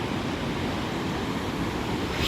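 Ocean surf at Juhu beach in Mumbai washes in as a continuous, loud broadband roar with wind buffeting the microphone. No voices or breaks in the noise.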